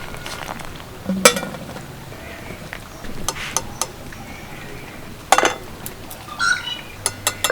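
Boiled pasta lifted out of the pot with a slotted metal strainer, light scattered clinks and taps of utensil against cookware, close and intermittent over a faint background hiss.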